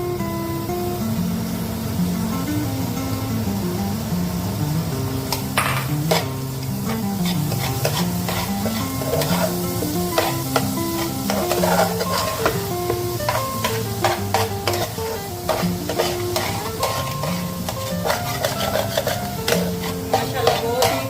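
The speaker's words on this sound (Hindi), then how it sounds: "गाजरें अच्छी तरह से ड्राई होने तक आपने इसको फ्राई करना है।" Grated carrots frying with semolina in a pan for carrot halwa, a steady close sizzle with repeated scraping and stirring strokes throughout.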